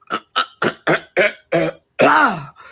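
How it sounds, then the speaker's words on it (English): A series of short, forceful throat-clearing rasps, about six quick bursts, followed by a longer gravelly clearing, close and loud. "Let me clear my throat."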